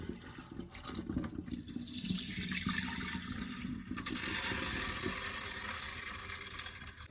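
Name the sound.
water being drained from soaked rice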